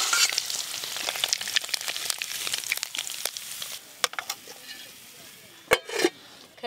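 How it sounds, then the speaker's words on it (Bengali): Paneer pieces frying in hot oil in a pan: a dense, close sizzle with crackling spatters, fading toward the end and broken by a few sharp clinks of a utensil against the pan. "এবার পনিরগুলো লাল লাল করে ভেজে নেব।"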